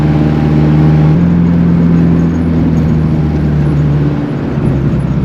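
A Honda Accord AWD running a single muffler gives a loud, steady raspy exhaust drone, heard from inside the car with no talking.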